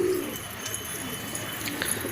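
Domestic pigeons coo softly from a loft, giving faint, low murmurs against quiet background noise with no talking.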